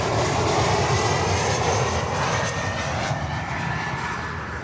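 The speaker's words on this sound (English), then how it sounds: "the first one is Aer Lingus, actually, that's coming in on runway 12." An Aer Lingus airliner on approach to runway 12 produces a loud, continuous engine roar that holds steady and fades only slightly over a few seconds.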